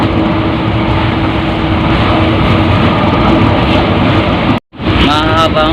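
Riding inside a Manila LRT light rail train, a loud steady rumble and roar of the carriage fills the space, ending with a brief cut and a voice speaking close by.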